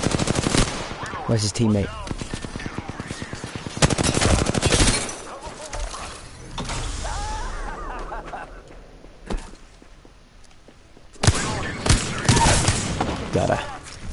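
Rapid automatic gunfire bursts from an Apex Legends firefight, loud repeated volleys that come and go, with players talking over and between the shots.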